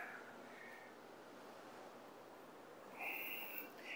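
Sea waves wash onto the shore below a one-storey house facing the sea in San José del Cabo, a soft, steady surf wash with light wind noise and no voices.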